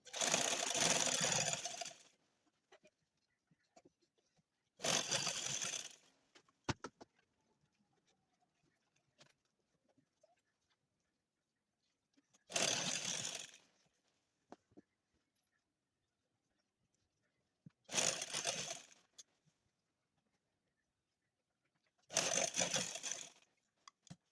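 Sewing machine stitching a folded half-inch fabric hem over elastic on a tulip shalwar, running in five loud bursts of a couple of seconds each, separated by quiet pauses.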